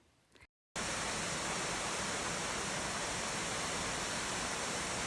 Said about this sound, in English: This next waterfall is Miners Falls.